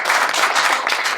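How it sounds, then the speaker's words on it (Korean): Audience at a Korean shaman ritual festival talk show breaks into a short burst of applause, dense and close, many hands clapping steadily for about a second. "일단 박수 한번 치고."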